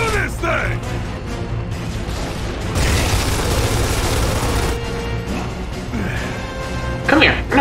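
A frag grenade blast in Gears of War 3 swells into a dense, rumbling explosion mid-clip, set among combat noise and game voices.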